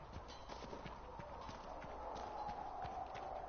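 Horse hooves clip-clopping at the stables in the video game Dragon Age Inquisition, a steady run of quiet, evenly spaced hoof clops that continues throughout.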